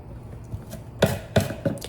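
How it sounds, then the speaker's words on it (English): Lemon zest being grated on the smallest-holed side of a hand grater: three short, bright scraping strokes in quick succession, close and fairly quiet, with no talking. "So you always use the part of the grater that has the smallest holes."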